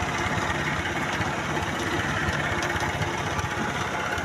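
A motorcycle idles nearby, a steady low rumbling engine note with a constant vibrating chug and no revving, continuing evenly throughout.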